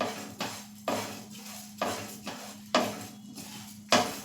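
A spatula scrapes and knocks against a pan as cumin seeds dry-roast on a low gas flame, giving about eight sharp, close clanks at a loose, steady rhythm, with no talking.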